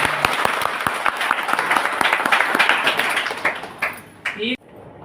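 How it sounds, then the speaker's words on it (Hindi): An audience bursts into loud, dense applause that holds steady, then breaks into a few final claps and stops abruptly near the end. "इस बात के लिए जोरदार तालियां बजाओ"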